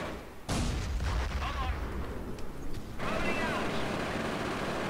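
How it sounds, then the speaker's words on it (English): Mortar fire in the World War II strategy game Company of Heroes, with a sudden loud thump followed by rumbling blasts and a second burst of explosions a few seconds later, heard amid continuous battle noise. "Ah, it's a mortar."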